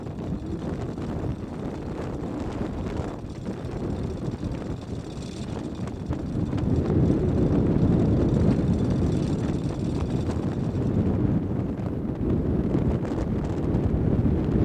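Strong, steady wind roars around a sailing boat lying at anchor in a storm, a dense broadband rush that swells in a heavy gust partway through and stays loud to the end, with no voices.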